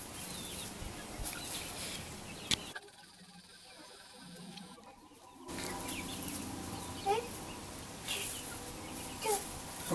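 Chickens cluck softly around a backyard baby chicken house, with scattered brief calls over a steady noisy background and a short quieter gap in the middle.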